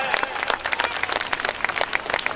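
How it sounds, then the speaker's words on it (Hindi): Audience applause at a school annual function prize-giving, a dense burst of many hands clapping close by, steady for a couple of seconds. "एक ताली धीरज के लिए बनता है"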